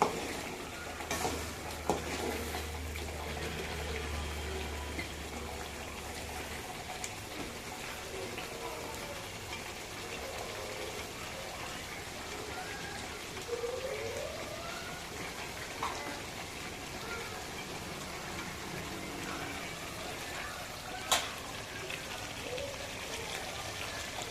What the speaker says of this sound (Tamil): இந்த அளவுக்கு கொதிக்க விடுங்க